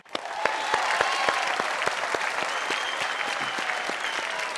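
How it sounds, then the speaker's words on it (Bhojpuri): A studio audience on a Bhojpuri quiz show applauds Olympic gold medallist Abhinav Bindra with loud, steady, sustained clapping that starts almost at once and keeps going. "अभिनव बिंद्रा खातिर जोरदार तालियां"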